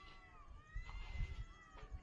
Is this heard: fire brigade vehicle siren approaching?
no